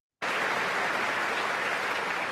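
Dense applause from a large audience in a played recording, starting abruptly and holding steady and loud throughout with no voices over it.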